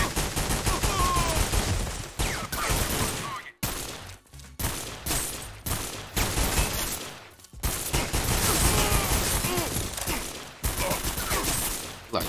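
Shotgun blasts and heavy gunfire ring out in a shooter game, loud repeated bursts with brief gaps between volleys.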